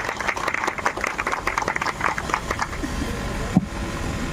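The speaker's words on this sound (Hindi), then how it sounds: "मैं आप सबका जोरदार तालियों के साथ स्वागत करता हूं" An audience claps at the opening ceremony of a startup mart in Jaunpur, Uttar Pradesh, with brisk, dense applause for about three seconds before it thins and fades into room noise.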